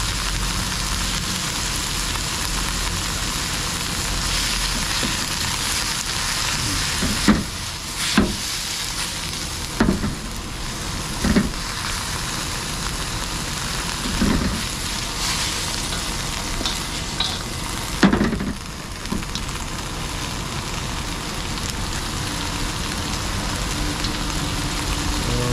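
Pork with green chili sautéing in a pan makes a steady, loud sizzle throughout, broken by occasional scraping and clacking stirs of the utensil against the pan.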